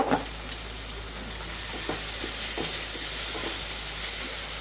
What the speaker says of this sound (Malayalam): നന്നായിട്ട് വഴറ്റി വന്ന് അതിൻ്റെ പച്ച സ്മെല്ലൊക്കെ മാറട്ടെ.